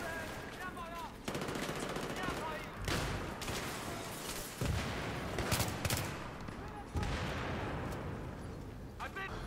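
A light machine gun fires in a video game in loud, rapid bursts mixed with other gunfire and impacts, while a player talks over the action.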